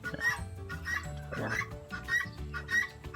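Farm chickens, including a black hen, cluck in short repeated bursts nearby, with some overlapping calls and a brief louder squawk midway.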